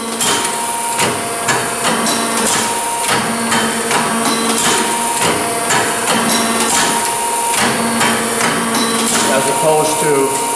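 Di-Acro 14-48-2 hydra-mechanical press brake cycling in a shop, a continuous mechanical and hydraulic whir with rhythmic knocking and clunking as it reaches pressing speed, fairly loud and steady.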